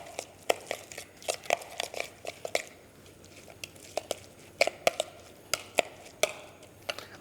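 Red cabbage being tossed and mixed with sauce for fish tacos, heard as a series of close, irregular wet squelches and crisp crunchy taps, scattered and alone.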